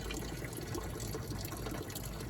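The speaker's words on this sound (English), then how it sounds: "So it's still dumping fuel." The carburetor on a 1985 Dixie Bandit boat engine keeps dumping fuel, making a faint, steady liquid gush with no breaks and no speech.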